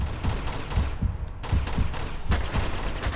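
Rapid pistol shots ring out in the video game Uncharted 2: Among Thieves, a string of loud, punchy reports in quick succession with a brief lull midway before firing resumes.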